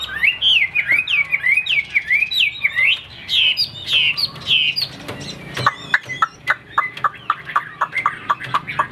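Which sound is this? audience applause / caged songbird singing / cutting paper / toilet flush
caged songbird singing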